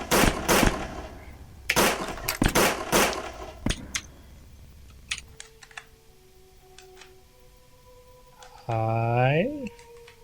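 Gunfire in the horror video game Russian Sleep Experiment: several sharp, loud shots crack in quick bursts, then give way to a quiet hum and a brief warbling electronic tone.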